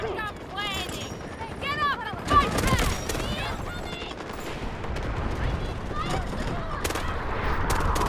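Gunfire in the video game Delta Force comes in short bursts and single cracks, with a sharp burst around the middle, all under an excited voice talking and shouting throughout.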